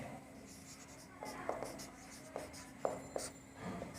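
A pen scratches briefly across paper while writing out a geometry proof, in short faint strokes under a steady background hum, with someone talking over it.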